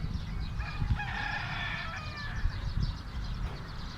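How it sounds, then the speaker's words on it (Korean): A rooster crows loudly in the yard of a country house on the edge of a city, one drawn-out call over a low, rumbling outdoor background. "닭소리도 우렁차고요."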